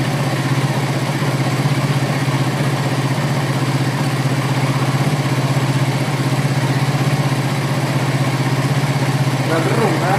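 A Suzuki GSX-R150 motorcycle with a serviced throttle body sits idling, its engine giving a steady, loud, close throb that holds an even pitch throughout without any clear rise in revs.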